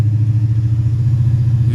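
A car engine idles roughly just after an exhaust repair, a deep, close, continuous rumble with a slight uneven throb and no talking.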